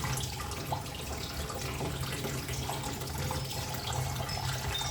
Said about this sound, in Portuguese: Deixa eu molhar ela.